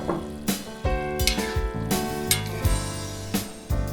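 Diced bamboo shoots, tofu and carrot are stir-fried in a wok with soy sauce and sweet bean paste, a loud sizzle cut by repeated clanging, ringing spatula strikes in an uneven rhythm.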